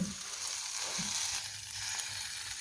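Coriander seeds sizzling in hot oil for a curry, a steady, even hiss of frying close by with soft crackles.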